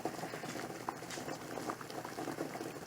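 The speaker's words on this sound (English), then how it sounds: "But eggs are boiling, timer set." Eggs boiling in a pot of water on the stove, a steady close bubbling and rolling patter that runs throughout with no pauses.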